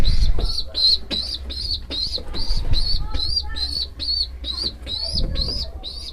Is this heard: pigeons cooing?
yes